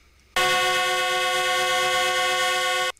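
Passenger train on a test run from Iju in Lagos to Ladiri in Abeokuta sounds a single long, steady horn blast that starts abruptly and cuts off after about two and a half seconds, loud and close.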